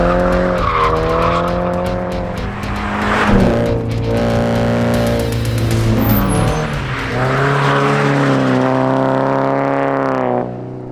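Toyota GT86 accelerating hard through the gears, a loud close engine note with rising harmonics that repeatedly climbs in pitch, dips at shifts and climbs again, with some tire noise, no talking.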